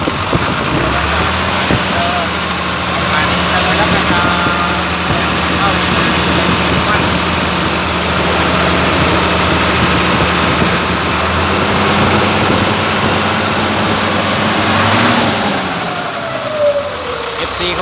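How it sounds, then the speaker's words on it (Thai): A Mitsubishi truck's turbocharged diesel engine idles steadily up close, with a deep constant rumble and a low hum that lasts throughout before easing slightly near the end. "อาจารย์ติดเครื่องแล้ว"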